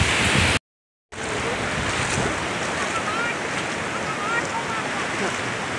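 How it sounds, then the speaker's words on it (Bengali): Strong sea waves surge and break at Mandarmani beach, a steady, loud roar of surf with wind buffeting the microphone, broken by a brief dropout near the start. "জলের ঢেউ খুব আজকে।"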